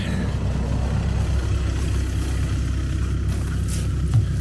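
A car engine runs steadily at close range with a low idling rumble, a driver arriving to collect a passenger near a ski area, with no talk over it.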